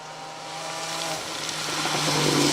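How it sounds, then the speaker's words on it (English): A supercharged Mini rally car on a forest stage of the Cambrian Rally gives a steady high whine with rising engine roar as it accelerates, fairly distant and alone. "You hear the whine of the Mini supercharger."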